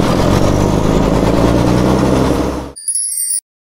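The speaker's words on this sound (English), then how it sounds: "Bus." A bus engine rumbles steadily at idle, loud and close, for nearly three seconds before stopping, followed by a short high chime.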